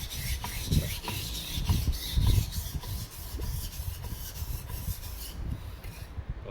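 A knife blade is pushed back and forth across a sharpening surface, giving rhythmic rasping, scraping strokes, close up and steady, with no speech.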